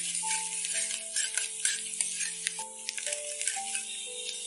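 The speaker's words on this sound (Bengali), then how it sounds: "পেঁয়াজটা ভাজা হয়ে গেছে" Onions frying in a pan for Bengali chicken dopiaza, giving a continuous soft sizzle with light stirring, under steady sustained tones.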